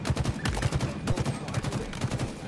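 Disruptor weapon firing in a Halo 3 map remake, heard as rapid, closely spaced bursts of shots that repeat steadily and loudly throughout, with no talking.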